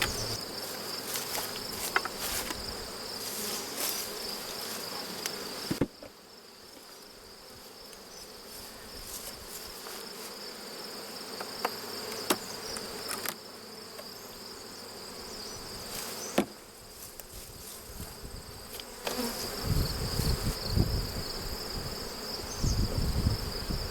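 A dense, steady buzzing of many honeybees at a nucleus hive fills the clip, close and continuous, with occasional soft knocks and rustles underneath.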